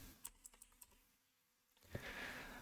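A handful of sharp keyboard clicks from someone typing a short word into a Windows search box, spaced unevenly across the first second, then quiet, followed by a brief louder clatter and a hiss.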